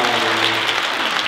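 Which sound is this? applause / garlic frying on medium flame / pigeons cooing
applause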